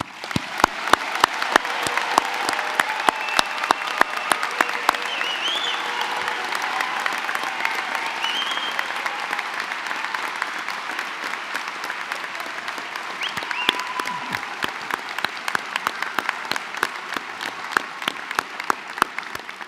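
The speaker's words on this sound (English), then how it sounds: "Big round of applause." Sustained audience applause at a medical school white coat ceremony welcoming the class of 2022, a dense steady clapping crowd lasting the full stretch with scattered sharper claps.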